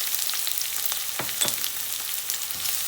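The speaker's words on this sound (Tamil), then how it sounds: "வெங்காயம் வந்து நல்லா கொஞ்சம் கலர் சேஞ்ச் ஆகிற வரைக்கும் நல்லா வதக்கிக்கலாம்." Onions and green chillies with a little salt sauté in a pan for a capsicum egg rice, giving a steady, close sizzle and fry with a few stirring scrapes and no voices.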